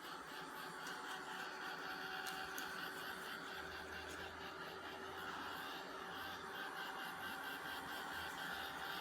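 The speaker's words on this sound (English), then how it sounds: "I'm going to hit it with the heat gun real quick and see what happens" A heat gun blows hot air over freshly dyed fabric to dry it quickly, giving a steady, loud, unbroken whir with a faint hum running through it. There is no talking.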